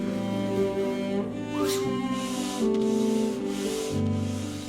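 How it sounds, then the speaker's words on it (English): Continuous abrasive rubbing and scraping of sanding and fairing a boat hull's topsides, sweeping back and forth under background music. "It's been 4 very tough weeks of sanding and fairing the topsides of the hull"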